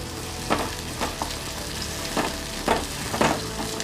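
Finely chopped onion fries in melted ghee, a steady close sizzle with occasional sharper crackles and stirring scrapes, no talking.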